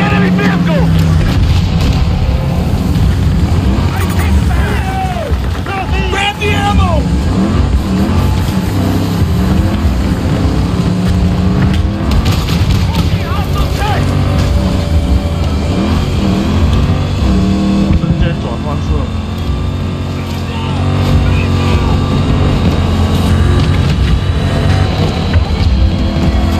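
An enemy vehicle engine in Battlefield 2042, a loud continuous motor roar with shifting pitch running throughout amid battle noise, with shouted voices over it.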